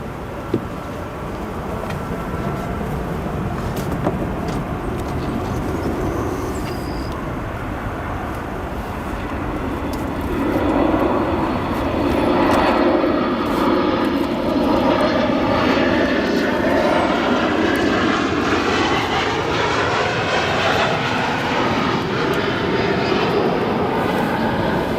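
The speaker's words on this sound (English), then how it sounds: "Listen to these GE 90s." Airliner with GE90 jet engines at O'Hare, a steady, loud turbofan roar that builds midway and holds, with a broad rushing drone and shifting whine, no voices.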